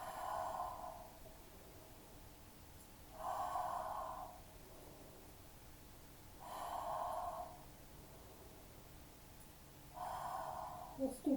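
Deep breathing during a yoga vinyasa flow, four slow, audible breaths spaced a few seconds apart, close and fairly soft, with a faint voice at the very end.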